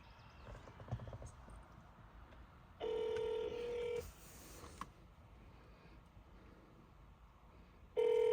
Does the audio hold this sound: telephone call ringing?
yes